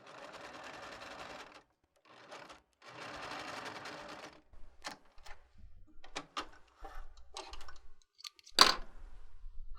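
A sewing machine stitches a t-shirt hem in two sustained runs, then sounds short bursts and clicks as it passes the old stitching and back tacks, ending on a sharp louder click.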